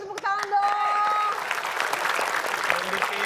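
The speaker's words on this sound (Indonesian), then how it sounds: "boleh kita kasih tepuk tangan dong" Audience applause in a comedy show studio, a broad wash of clapping that holds steady, with a voice and tonal sounds briefly heard over it at the start.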